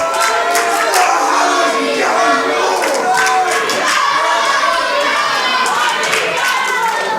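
Loud wrestling crowd at a UKPW show jeering at Louis Basham, a dense, sustained mass of shouting and booing voices filling the hall without pause.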